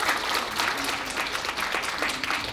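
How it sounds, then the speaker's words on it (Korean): At a Rare Disease Day event, an audience gives steady, dense applause for four panelists, continuing evenly throughout the short stretch. "다시 한번 네 분의 패널 분들께 박수 부탁드립니다"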